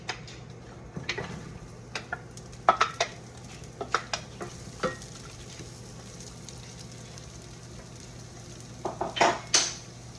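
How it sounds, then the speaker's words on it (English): Light clinks and scrapes of a utensil against a frying pan over a steady low hum, with soft sizzling of vegetables sautéing in olive oil in the background, sparse and irregular. "put in the vegetables into the frying pan with a bit of olive oil and saute them"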